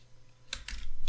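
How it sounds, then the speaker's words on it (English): Computer keyboard typing close by: a few crisp key clicks, sparse at first and then quicker and louder toward the end, with no speech. "So I'm just going to type in"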